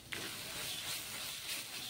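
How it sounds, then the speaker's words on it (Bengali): Ground poppy seed paste fries with spices in a pan, giving a steady broadband hiss and sizzle that holds evenly throughout, close and moderately loud, with no voices. "এই মশলাগুলোর সাথে ভালো করে পোস্তটাকেও ভেজে নিই"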